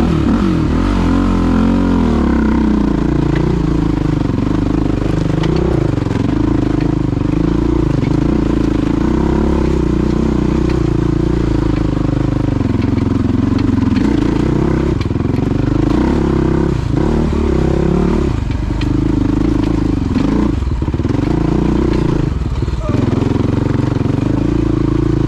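A Suzuki LTR450 quad with gear reduction grinds over a rocky trail, its engine droning loudly and steadily with revs rising and falling and clattering knocks from rocks under the wheels throughout.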